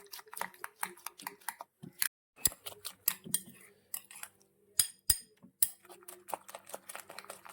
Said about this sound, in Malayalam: നമ്മൾ മുട്ടയൊക്കെ ഇട്ട് പച്ചക്കറിയൊക്കെ ഇട്ട് നന്നായിട്ട് ബീറ്റ് ചെയ്തിട്ടുണ്ട്